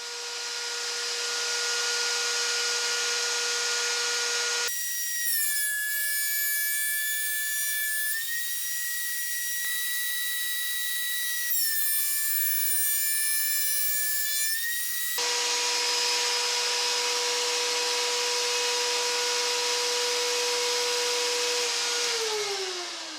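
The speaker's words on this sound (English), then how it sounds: "next step here is thickness planer" A thickness planer feeds a wooden guitar neck blank, a loud steady whine that drops into a deeper cutting drone twice, with pitch steps as the board passes through, then returns to the higher idle tone.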